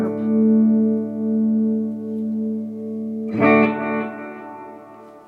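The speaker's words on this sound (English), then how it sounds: "Let's add some reverb." Electric guitar played through a Positive Grid Spark amp with reverb: a sustained chord rings out and fades, then a second strummed chord hits and trails off in a washy tail, with no talking.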